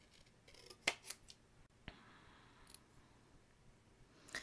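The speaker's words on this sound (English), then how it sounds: "and trim that out with my scissors." Scissors trim stamped cardstock for a handmade card: a few quick, crisp snips and a longer slicing cut, close and fairly quiet, with no talking.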